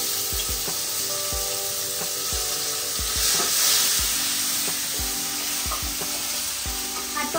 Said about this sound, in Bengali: এবার আমি টমেটো গুলো দিয়ে দেবো।